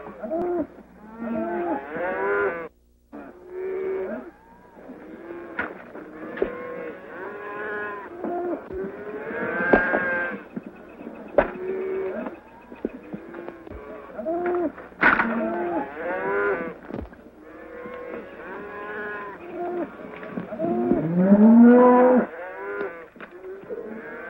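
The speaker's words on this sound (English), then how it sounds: "Here comes the cattle." Cattle mooing again and again, long, deep, overlapping calls from a herd close by, with hardly a pause between them.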